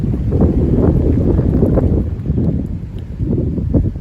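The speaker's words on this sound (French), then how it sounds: "Le vent commence à être bien soutenu avec de la bruine plus fine." Strong wind gusts up to 80 km/h with fine drizzle buffet the microphone in heavy, rumbling gusts, loud and continuous with slight swells and dips in force.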